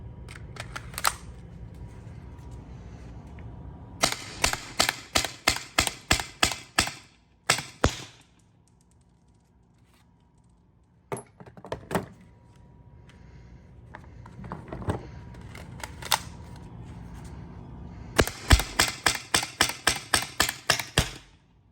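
A paintball marker powered by two 12g CO2 cylinders in the buttstock, fed from a 20-round Zeta magazine, fires in quick runs of sharp, loud pops, with pauses between strings and a few single shots.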